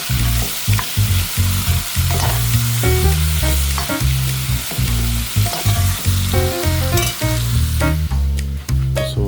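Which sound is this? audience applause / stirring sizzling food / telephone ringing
stirring sizzling food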